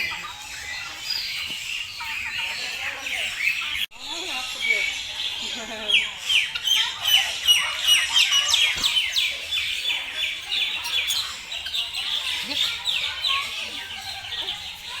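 Many birds at a Palembang bird park chirp, squawk and call continuously in a dense, busy chorus, with people talking nearby.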